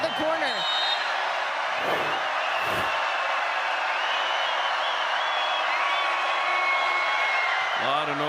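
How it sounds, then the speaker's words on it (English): Crowd noise fills an arena during a tied men's college volleyball match between USC and BYU, a continuous loud roar of cheering and voices with a few sharp thuds. "A lot of noise from this crowd."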